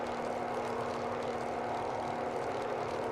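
A Grumman F3F-2 propeller engine in Microsoft Flight Simulator 2020 drones steadily at a constant, fairly muted level, with a faint whine running through it and no talking.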